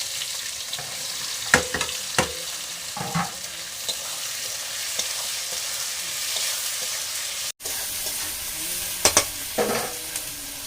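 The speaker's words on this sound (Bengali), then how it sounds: "এতে দিয়ে দেবো আরও একটু সর্ষের তেল দিয়ে দেবো তেজপাতা পেঁয়াজ কুচি" Chopped onion and bay leaves frying in mustard oil give off a steady, close sizzle, broken by a few sharp clinks and scrapes of stirring in the pan.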